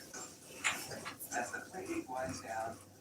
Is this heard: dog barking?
yes